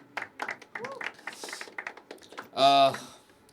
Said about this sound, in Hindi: निदा के लिए तालियां बजती रहनी चाहिए